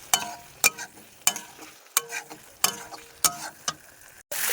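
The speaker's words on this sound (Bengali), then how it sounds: "মশলাটা আমার প্রায় হয়ে এসেছে, এবার আমি আলু আর ডিমটা দিয়ে দেবো এতে" Potatoes and boiled eggs go into frying spice masala for egg malai curry. A spatula scrapes the pan in sharp strokes about every half second over a soft, low sizzle.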